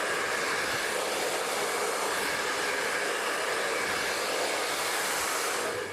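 A hair dryer blows steadily and loudly throughout while hair is being blow-dried with a brush for an outward-curl setting, a continuous broadband whoosh with no talk.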